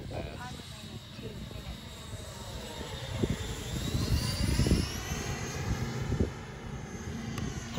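An FMS 90mm Super Scorpion RC jet makes a low pass, its ducted-fan whine rising and swelling as it sweeps by, then easing off, with a voice talking over the sound.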